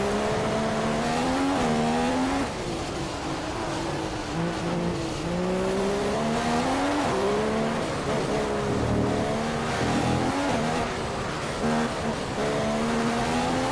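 Formula 1 car, a Ferrari, lapping the Monaco street circuit in F1 2015, its high engine whine rising and falling steadily through gear changes, loud and continuous, with brief tyre squeal.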